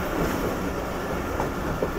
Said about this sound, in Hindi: 6:14 पर हमारी ट्रेन अप्रोच बना रही है इस वक्त गोजरा रेलवे स्टेशन पर